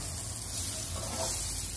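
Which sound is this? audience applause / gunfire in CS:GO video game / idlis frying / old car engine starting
idlis frying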